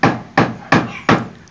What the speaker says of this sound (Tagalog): bakit pinupukpok mo yung Philip natin?